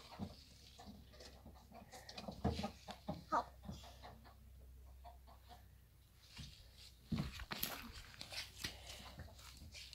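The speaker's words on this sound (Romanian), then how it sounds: "Acolo e găina." Hens cluck in a coop at a grandmother's farmyard, with irregular bursts of clucking that rise and fall over steady background noise, some calls close and some farther off.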